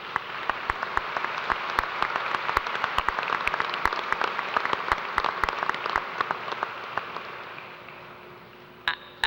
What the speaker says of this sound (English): Please join me in a round of applause for all that they've done.